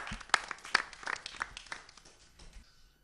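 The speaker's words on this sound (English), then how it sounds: "Can we have a small round of applause for the first finalist?" A small quiz-night audience gives a brief round of applause for a finalist, a short burst of scattered claps that thins out and fades over a few seconds with no speech.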